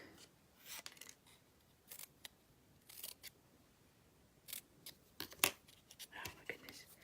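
Scissors snip through card stock for a Christmas craft project in a series of close, quiet, irregular cuts, with soft rustling and handling of paper between them.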